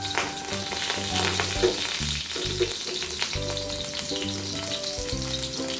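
Onions sautéing in a pan for sinampalokang gabi give a loud, continuous close sizzle and crackle, with faint tonal background hum running throughout and no talking.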